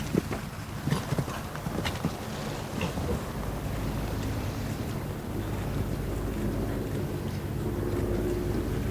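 Horse hooves thudding on turf at a show jumping event, a quick rhythmic run of strikes up close at first, then fading into a steady windy outdoor rumble as the horse moves away.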